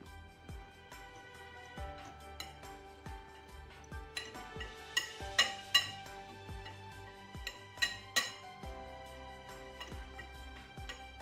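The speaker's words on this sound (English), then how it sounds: "Now we mix the dry ingredients together." Dry bread ingredients are stirred together in a bowl, giving repeated clinks and taps of a utensil against the dish in an irregular rhythm, close and fairly quiet with a few louder knocks.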